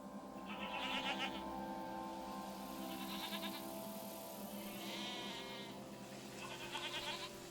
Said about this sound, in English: I'm petting this goat for you.